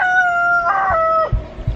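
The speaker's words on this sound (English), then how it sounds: "Rooster." A rooster on a homestead crows once loudly and close, a drawn-out cock-a-doodle-doo ending in a few low thumps.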